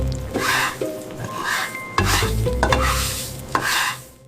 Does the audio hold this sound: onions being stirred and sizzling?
yes